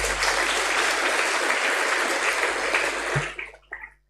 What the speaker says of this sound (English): Can you give yourselves a hearty clap